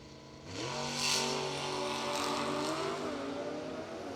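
At a drag-racing launch, a Chevy Deuce car races a Hayabusa motorcycle, and engines rev up and accelerate in a rising whine, heard faint and distant against steady background noise.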